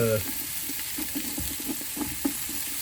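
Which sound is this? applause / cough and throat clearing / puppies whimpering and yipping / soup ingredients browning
soup ingredients browning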